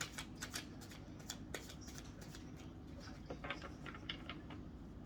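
Tarot cards are shuffled close by in a quiet room, with crisp, rapid riffling and soft flicks repeating over several seconds. No voices are heard.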